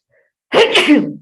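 A single loud, close sneeze bursts out after a brief silence, then trails off quickly.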